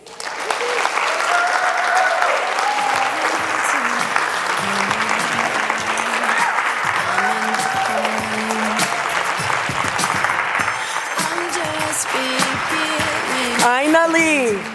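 A large audience gives sustained, dense applause after a speech honoring a mentor at an SSL 2017 event, steady and loud for the whole stretch, with a tonal voice or music line weaving through underneath.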